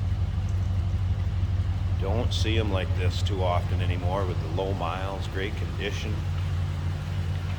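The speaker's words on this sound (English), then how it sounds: "Nice deep exhaust note." A 2004 Pontiac GTO coupe with low miles idles steadily in the background, a low constant rumble running beneath a voice as he talks throughout.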